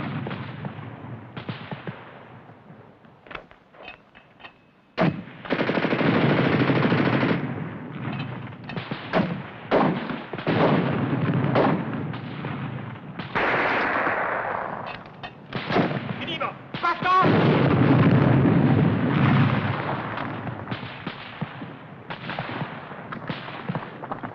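Battle gunfire from the 1951 war film Go For Broke rattles in repeated loud bursts and single sharp shots, some near and some farther off, continuing through most of the stretch with brief pauses and a few voices mixed in.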